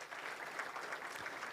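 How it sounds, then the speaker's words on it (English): Audience applause at an International Anti-Corruption Day event in Kenya, honoring Dr. Barnett after a speech; a steady, even wash of clapping from a crowd, moderately loud throughout the short burst. "A round of applause for Dr. Barnett"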